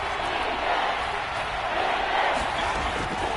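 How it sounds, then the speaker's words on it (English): Steady roar of a stadium crowd inside the Dome during a football game on third and goal, a loud continuous wash of voices and cheering that never lets up. "The crowd here in the Dome making things difficult"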